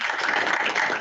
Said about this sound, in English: We'll give you a quick round of applause.